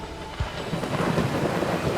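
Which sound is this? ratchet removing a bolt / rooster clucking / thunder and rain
thunder and rain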